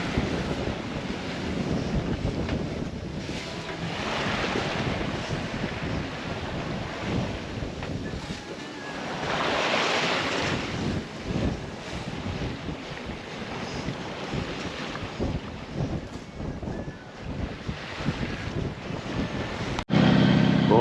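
Strong wind buffets the microphone over the rush and slap of waves against a sailboat running crosswise to the wind, a continuous roaring wash with swells rising and falling.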